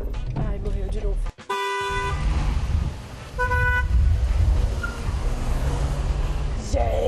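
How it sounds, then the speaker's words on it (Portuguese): Car horns honk in city traffic, one long blast followed by a shorter toot, over engine rumble and road noise, with people talking inside a car nearby. "E essas buzinadas, essas coisas que você passa?"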